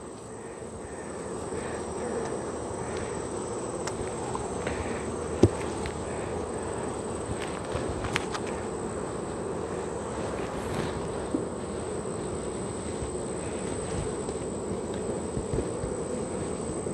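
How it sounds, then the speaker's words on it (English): A steady, dense drone of many honey bees buzzing close by at a hive with a medium super box, with a few louder individual bees passing near, continuing throughout. "these bees have been busy"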